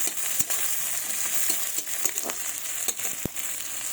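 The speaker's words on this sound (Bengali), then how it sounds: "পেঁয়াজগুলো লাল লাল করে ভাজা হয়ে গেছে" Chopped onions fry in hot oil with panch phoron, a steady bright sizzle running throughout, broken by occasional sharp spatula taps and scrapes against the pan.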